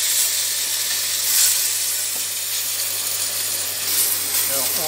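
Lamb pieces sizzle steadily in a hot pan for an apricot and prune tajine, a continuous broadband frying hiss with a low hum beneath and no breaks.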